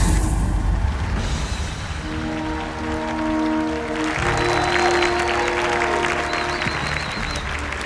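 A large crowd claps and cheers steadily in a Halo 2 Anniversary cutscene, with a music score and low rumbling sounds layered underneath throughout.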